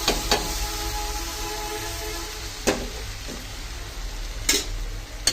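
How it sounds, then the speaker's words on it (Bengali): Pieces of cooked meat going into a pan of pulao with fried peas and potatoes, giving a steady frying sizzle and stirring with a few sharp scrapes and clatters spaced through it, close and moderate. "এখন আমি এই মাংসটা দিয়ে দিব।"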